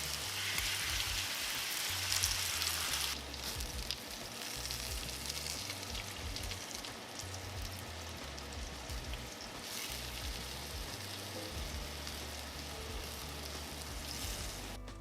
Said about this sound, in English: My oil is nice and hot. I'm gonna place our tacos into the oil